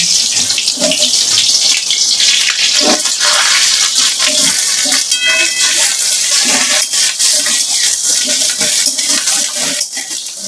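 Sliced brinjal fries in hot oil, giving a loud, dense, continuous hiss and crackle that holds steady close by for the whole stretch, with no talking.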